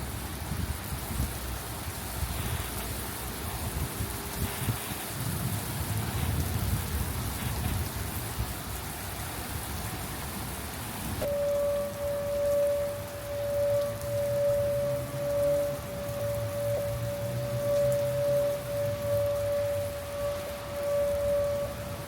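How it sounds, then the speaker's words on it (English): Heavy rain pours steadily in a storm in Arnold, Missouri, with gusting wind; partway through, a steady wailing tornado siren rises in the distance over the constant downpour. "So right now we just have the heavy rain"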